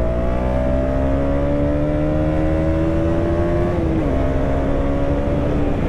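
A 2023 KTM Duke 200 motorcycle accelerates hard, its engine drone rising steadily in pitch with a loud, close rumble, briefly dipping at a gear change before climbing again.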